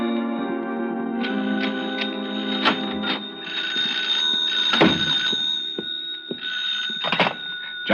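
Telephone ringing in an old-time radio drama: repeated bright electric bell rings over a musical background, with a few thumps and clicks mixed in, moderately loud.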